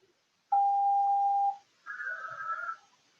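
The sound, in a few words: phone tornado alert tone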